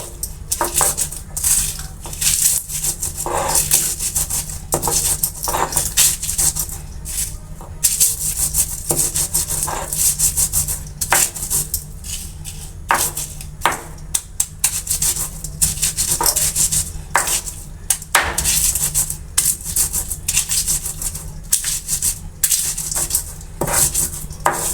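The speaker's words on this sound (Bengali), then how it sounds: "এখন সবকিছু বেটে নিব।" Sesame, chilli and salt being ground into a paste by hand, repeated scraping and rubbing strokes against a grinding surface in an uneven rhythm, close and fairly loud, with no talking.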